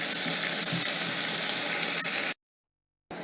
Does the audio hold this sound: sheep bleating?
no